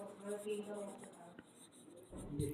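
Handwriting during a chemistry lesson on aldehydes and ketones: light scratching strokes running steadily beneath continuous talking.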